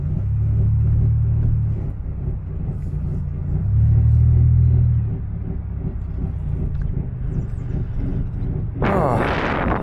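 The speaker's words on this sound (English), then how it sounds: "That metal on metal grinding is never great" A car's brake caliper grinding metal on metal while the car is driven, heard as a loud continuous low rumbling drone that swells in waves, ending in a brighter harsh scraping burst near the end.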